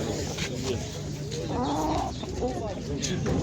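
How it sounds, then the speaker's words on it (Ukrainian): Chickens clucking amid a busy crowd at a livestock and trade fair in Starokostiantyniv, Ukraine, with people talking nearby throughout and bird calls rising briefly over the chatter. "є такі гарні кури."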